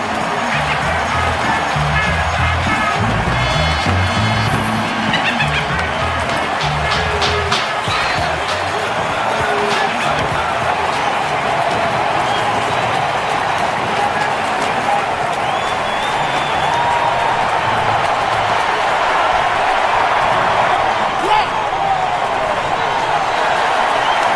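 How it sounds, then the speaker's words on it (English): A Brewers home stadium crowd roars in a loud, sustained wave of cheering during an NLCS playoff game against the Cardinals, the dense noise holding steady throughout while a broadcaster talks over it. "This Brewers crowd rising in unison, almost imploring their team to make a comeback."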